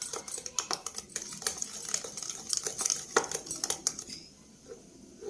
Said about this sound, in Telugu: చూడండి, ఇలా బాగా కలపాలి ఉండలు లేకుండా